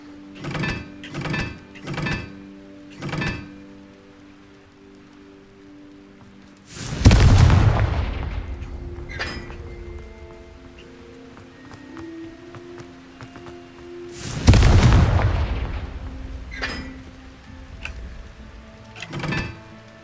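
Confringo explosion spells fired in the Hogwarts Legacy video game: two loud, heavy booms spaced several seconds apart, each with a rumbling decay, preceded by a quick series of sharp magical zaps.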